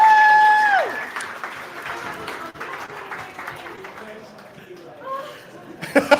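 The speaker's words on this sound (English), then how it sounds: "Give her a big round of applause, everybody." Brief audience applause with cheers at a startup demo day, strong at the start and then fading into crowd chatter and chuckles, with a presenter's voice and a whoop near the end.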